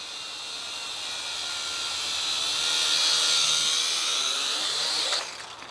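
Quadrone Pro-Cam quadcopter drone coming in to land outdoors, a loud high-pitched propeller whine that swells as it nears, then drops off abruptly as it touches down, with no talking.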